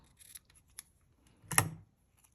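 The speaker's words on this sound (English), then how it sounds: "So I am just going to snip a little." Scissors snip through a short length of craft ribbon, about six inches, in one crisp close cut near the end after a few faint rustles and light handling sounds, with no talking.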